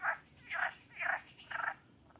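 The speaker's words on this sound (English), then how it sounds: "Don't know if you can hear them frogs, they're still going at it." Frogs croaking in the morning, four rhythmic bursts of rasping croaks at even intervals, moderately close against a quiet outdoor background with no talk.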